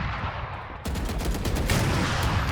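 Dense, rapid automatic gunfire in the tactical shooter Valorant, loud and continuous after a quieter opening, a rattling burst of shots with no talk over it.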